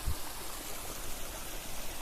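Rainwater from a heavy downpour runs downhill toward farm fields near a dense forest, making a steady, even rushing and trickling sound throughout.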